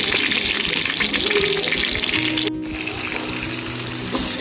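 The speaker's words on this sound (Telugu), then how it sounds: "సో ఇలా తాలింపు వేసుకొని కొద్దిగా లైట్గా వేగనివ్వాలి." Steady sizzling of tempering spices frying in hot oil, loud and close, with a brief dip partway through and faint kitchen clatter.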